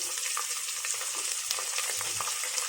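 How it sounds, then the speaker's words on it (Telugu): Onions, green chillies, ginger and curry leaves frying in oil for tomato upma give a steady, moderately quiet sizzle with light crackling pops and faint stirring throughout, no talking. "తరిగి పెట్టుకున్న అల్లం, కరివేపాకు వేసి బాగా వేయించుకోవాలి."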